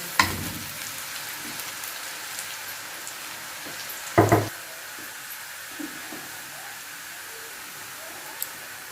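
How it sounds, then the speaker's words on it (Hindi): Garlic, ginger and onion fry in a pan for Sindhi fish masala, giving a steady, soft sizzle throughout, with a brief utensil clatter near the middle. "अब प्याज हल्का ब्राउन होना शुरू हो गया तो साथ हम लहसुन अदरक भी डाल दिए ताकि ये भी फ्राई हो जाए।"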